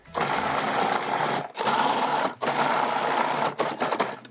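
A food processor pulses dairy-free cream cheese frosting in three loud, close bursts of whirring, each cut off by a brief gap.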